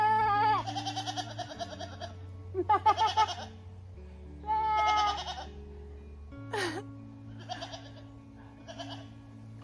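Goats by a river bleat in several separate, wavering calls with short gaps between them, loud and close, over a low steady background hum.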